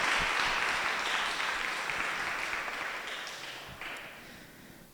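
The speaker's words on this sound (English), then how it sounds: "let's all have a round of applause for the valuable insight they've provided us with" Audience applause for panelists at a discussion event on AI, a dense steady clatter of many hands that gradually thins and fades over five seconds, with no talking over it.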